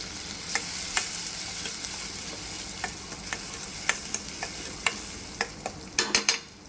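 Chopped onion and cumin frying in butter for Mumbai street-style pav bhaji: a steady close sizzle with scattered sharp crackles and pops that grow denser toward the end.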